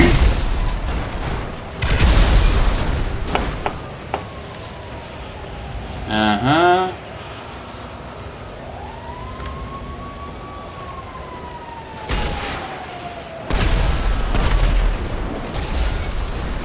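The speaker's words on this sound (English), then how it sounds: "Triple explosion." Three booming explosions in Grand Theft Auto V Online, loud bursts spread across the clip among game noise, with a siren-like sweeping tone rising and falling in between.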